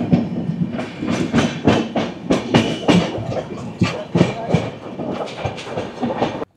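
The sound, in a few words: New Delhi Howrah Rajdhani Express train running on rails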